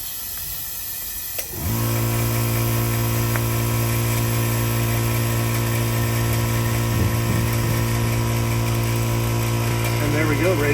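A VEVOR 5-ton pneumatic air bag jack inflates under the axle of a Jeep Gladiator, a loud steady rush of compressed air with a low droning hum that starts abruptly and continues unbroken, close and constant.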